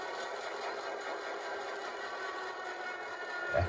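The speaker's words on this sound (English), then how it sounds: "And you hear the locomotive start up." A model 121 Class locomotive sound decoder gives a steady engine-like drone at start-up, a continuous mechanical hum with no voices over it, swelling slightly at the very end.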